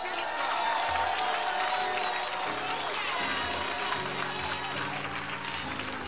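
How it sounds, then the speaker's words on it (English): A church congregation claps and cheers at a Sunday worship service, a dense, sustained roar of hands and voices with music-like tones running underneath throughout. "Now I want the real clap"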